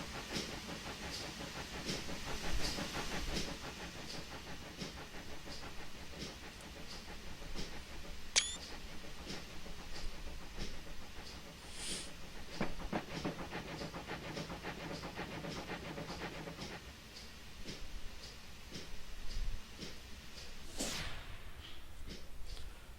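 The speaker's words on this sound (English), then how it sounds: "5-inch gauge train coming around the corner" A 5-inch gauge garden railway train in the Train Simulator 2015 video game: continuous hissing rumble with rhythmic clicking of wheels over rail joints, sharp steam bursts and a brief whistle-like squeal, steady and moderately loud.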